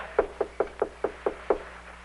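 Seven evenly spaced knocks on a door, crisp and close, rapping at a steady rhythm with no voices over them, in a 1950s sitcom house scene.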